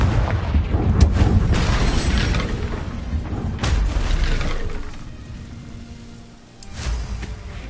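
Confringo blasting spell explosion in the Hogwarts Legacy video game, loud booming blasts with crackling rumble and debris, several sharp hits over a sustained roar that fades before a final burst.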